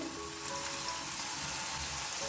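Garlic and tomatoes roast in a pan, producing a dense, steady close-up sizzle with no breaks and no talking.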